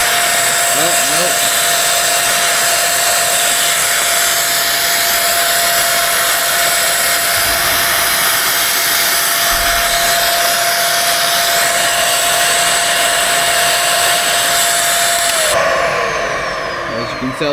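A vacuum cleaner runs continuously during a suction test, a loud steady whine and rushing airflow with a high tone that shifts near the end as the pitch drops.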